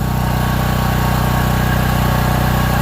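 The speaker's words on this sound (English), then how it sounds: "Kick that on, RPM kicks up" A Harbor Freight 195 welder generator engine runs loud and close, a steady, even drone that holds at a constant pitch for the whole stretch.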